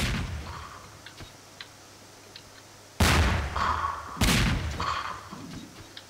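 Coconut bombs exploding in the Garry's Mod game mode Melonbomber: two loud, close blasts about a second apart break a quiet stretch of faint ticks and clicks.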